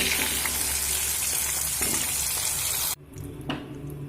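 Vegetables sizzling loudly in hot oil in a home kitchen while making a Bengali mixed vegetable chorchori, continuous frying hiss that cuts off abruptly partway through, leaving a quieter sizzle with a faint stir.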